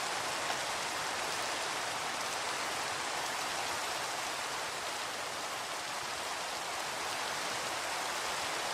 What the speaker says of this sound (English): Look, it's raining again.